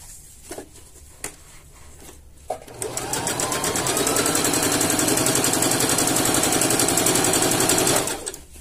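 A home sewing machine stitches through regular denim, starting after a few short taps and then running in a steady, loud, rapid mechanical chatter for about five seconds before stopping abruptly.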